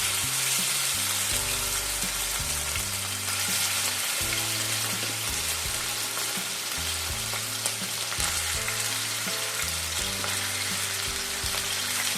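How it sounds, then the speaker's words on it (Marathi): Dried prawns marinated in turmeric, salt and lemon juice frying in hot oil for prawn pickle, a steady, dense sizzle throughout with background music underneath. "आता तळून घेऊया."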